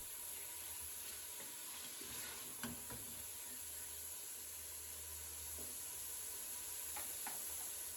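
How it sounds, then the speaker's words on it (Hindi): Beef pieces fry for a stew, a soft steady sizzle and hiss with occasional faint stirring clinks, fairly quiet throughout. "जैसे ही हम 5 मिनट इसे फ्राई कर लेते हैं गोश्त को"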